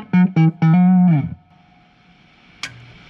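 An electric guitar played on its neck pickup through a Fender Deluxe Reverb amp: three short clean plucked notes, then a sustained ringing chord that cuts off, a quiet hum, and a brief string scrape near the end.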